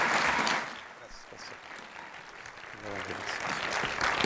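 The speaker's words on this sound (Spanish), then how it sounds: "Vamos a recibir al Pastor Montelongo con un fuerte aplauso esta noche" Audience applause in a church for a visiting pastor at an evening service, a loud burst of clapping from a crowd that fades and then swells again, with voices mixed in.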